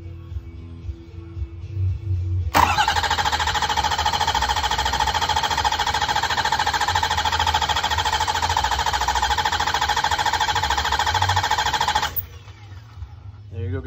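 A 6.0 Ford Powerstroke diesel truck engine cranks on its starter in one long, loud, steady whirring stretch of about ten seconds, beginning and cutting off abruptly, with quieter ambient noise before and after.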